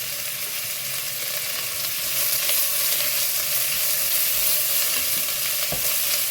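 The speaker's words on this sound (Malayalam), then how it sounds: "എണ്ണ ഒഴിച്ചതിന് ശേഷം കുറച്ച് സവാള, ഒന്ന് മൂത്ത് വരുമ്പോൾ നമുക്ക് ക്യാരറ്റ് ഇടാം." Sliced onions frying in hot oil in a pan for biryani, a steady bright sizzle with light stirring scrapes, close and continuous with no talk.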